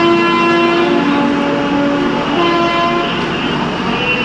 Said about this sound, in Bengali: ট্রেন এসে পৌঁছেছে কাসগঞ্জ জাংশনে